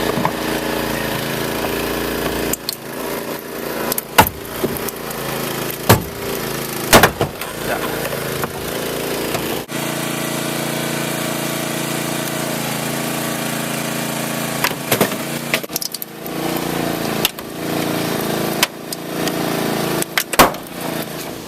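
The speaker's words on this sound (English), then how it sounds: "In other situations, a cutter might be more effective." Resqtec hydraulic rescue cutter running off its engine-driven power pack, a steady mid-pitched engine hum throughout with repeated sharp clicks and knocks of the cutter working at close range.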